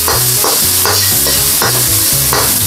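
Onion sautés in a hot pan, with loud close frying sizzle and a regular rhythm of stirring and scraping strokes.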